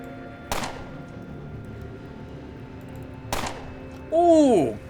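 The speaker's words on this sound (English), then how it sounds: "The sound of the gunfire may be drawing other ones as well." Two sharp gunshots in the video game Underrail, a few seconds apart, each with a short tail over low ambience, followed by a brief rising electronic tone near the end.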